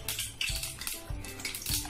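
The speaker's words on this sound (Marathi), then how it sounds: "आपण हे सगळं व्यवस्थित मिक्स करायचंय." A spoon stirs gobi pakoda batter of flour and a spoonful of oil in a bowl, with repeated clinks and scrapes against the bowl in an uneven rhythm, close and moderately quiet, with no talk.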